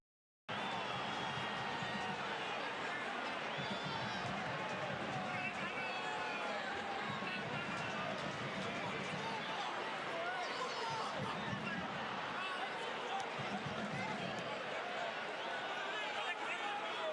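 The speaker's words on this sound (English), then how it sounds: "this crowd certainly whipped into a frenzy of anticipation" A football stadium crowd at an Orlando City vs. Tigres UANL Concacaf Champions League match hums with steady, expectant roar and babble, while a commentator talks over it throughout.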